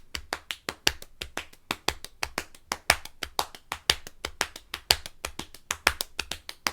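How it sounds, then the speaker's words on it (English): Rhythmic body percussion of alternating leg slaps and hand claps, crisp, close and steady in a quick repeating pattern with no talking. "I find it a really satisfying clapping pattern"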